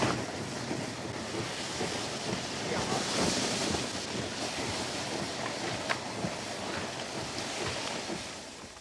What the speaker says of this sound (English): At last it can be pulled out and plunged into water.